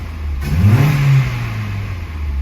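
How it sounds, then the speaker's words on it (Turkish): A car engine whose internals had been seized solid and rusted, now running again, revs up sharply and falls back, loud and close with no voices. "Gaz yemesi de müthiş baba."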